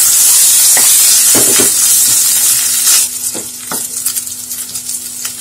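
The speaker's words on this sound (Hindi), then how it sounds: "जीरा जैसे ही तड़कने लग जाए हम ऐड करेंगे बॉईल करे हुए चावल और इसे मिक्स कर देंगे।" Cumin and whole spices crackle and sizzle loudly in hot oil, then boiled rice is tipped in and stirred, with scraping strokes as the hiss settles down.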